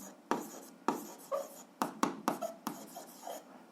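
Pen strokes on paper while an algebra exercise is solved by hand: a series of short, close scratching bursts in an uneven rhythm, with brief pauses between strokes and no talk.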